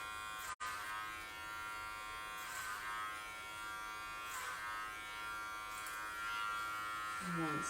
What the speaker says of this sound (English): taking my comb at a 45, picking it up, going in sideways with my clipper